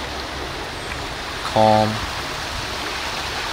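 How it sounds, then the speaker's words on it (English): A stream of water flows outdoors in a steady, even rush throughout, with a brief low tonal hum in the middle and a short spoken word over it. "And the birds, the water, the wind."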